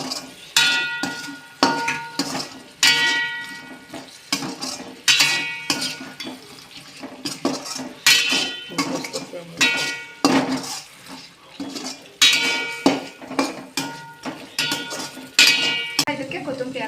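Cauliflower manchurian fried on a high gas flame, with repeated loud rhythmic clangs and scrapes of a ladle against the pan over a bed of sizzling, close and busy.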